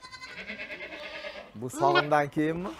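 A goat on a farm in an Uzbek neighborhood bleats close by, one drawn-out call followed by a louder, wavering bleat, while people talk nearby.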